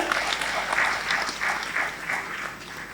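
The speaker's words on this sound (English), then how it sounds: "Round of applause for them." Audience applause at a regional quiz competition, a steady wash of many hands clapping at moderate level for about three seconds, swelling slightly in pulses with no voices over it.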